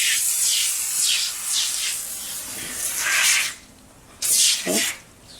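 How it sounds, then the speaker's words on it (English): Several short hissing sprays of Super Clean Tough Task Degreaser from a spray bottle, a quick run of bursts followed by a pause, then two more close, sharp spritzes. "Let's spray it real quick."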